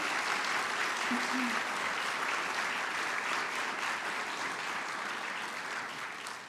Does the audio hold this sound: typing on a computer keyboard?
no